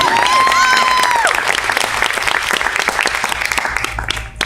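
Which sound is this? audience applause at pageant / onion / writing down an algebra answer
audience applause at pageant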